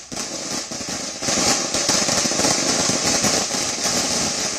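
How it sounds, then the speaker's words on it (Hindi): Firecrackers and fireworks going off at a Congress party victory celebration in Karnataka. A dense, loud, continuous crackling barrage grows stronger partway through, with no voices. "आज भी पटाखे जलाए जा रहे हैं, आतिशबाजी की जा रही है"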